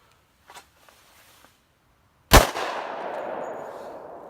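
A single loud, close gunshot from a Glock 29 Gen 4 pistol, fired outdoors in open country, cracks sharply and then rings out in a long fading echo. A few faint handling clicks come before it.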